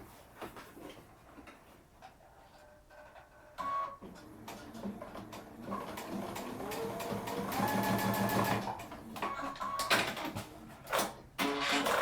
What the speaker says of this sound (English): Now I'm gonna to sew it down a little bit so that it's really on there.